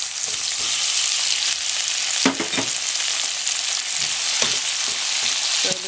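Tomatoes added to onions frying in a pan, a loud continuous sizzle close by with a few scraping stirs breaking through, and no one speaking.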